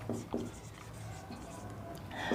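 Someone writes on a board in a few short scratchy strokes, faint and close, with quiet pauses between them.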